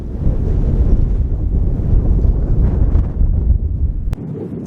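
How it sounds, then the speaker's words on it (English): Strong gusty wind buffets the hillside at Angler's Crag above Ennerdale, a dense low rumble blowing continuously for several seconds before a sudden click and a quieter tail. "it's got quite windy"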